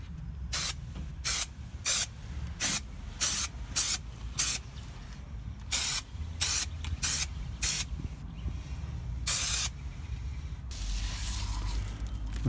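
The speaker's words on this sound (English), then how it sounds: "We'll spray both surfaces with this Trim Fix adhesive." Short bursts of Trim Fix spray adhesive hissing from an aerosol can onto van lining carpet, in a quick irregular series, close and loud, ending with a longer continuous spray.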